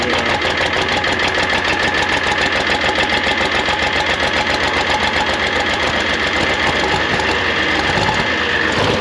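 A Farmall 706 tractor's 282 diesel engine runs cold right after starting, a loud, rough, rapidly knocking idle that continues steadily and close up throughout, with no talking.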